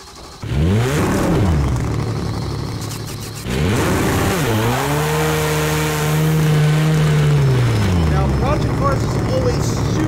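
A race car engine in Project Cars 2 revs up and down in pitch sweeps, then climbs and holds a loud, steady drone before shifting again, close and continuous with no talking.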